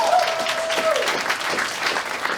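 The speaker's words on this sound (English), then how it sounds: "please round of applause." Steady, dense applause fills a room at the close of a Christmas variety show, an even patter of many hands clapping close by with a brief whistle near the start.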